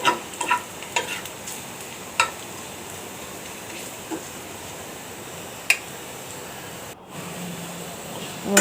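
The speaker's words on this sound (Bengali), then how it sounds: "আমি অল্প আছে ভাজতেছি সময় নিয়ে, যাতে শাকটা সিদ্ধ হয়" Jute leaves frying and being stirred in a pan with a chili, giving a steady low sizzle broken by a few sharp scrapes and clicks of the spoon, close and fairly quiet, with no talking.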